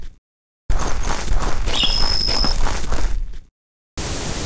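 Logan's footsteps in the 2003 video game Chrome tread in a steady, close run of scuffing steps that cuts off abruptly, then resumes after a brief silence.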